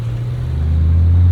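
A 1999 BMW Z3 M Roadster out driving in traffic gives a steady, loud low engine drone that swells slightly toward the end, with no voices.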